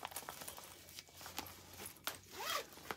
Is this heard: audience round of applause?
no